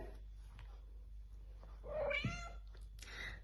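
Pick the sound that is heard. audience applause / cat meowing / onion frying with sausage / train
cat meowing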